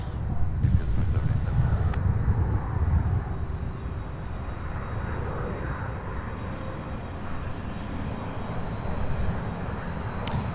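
A heavy UPS cargo jet at Louisville's airport roars steadily with broadband engine noise, loudest early and holding a continuous rumble throughout, with no talk over it.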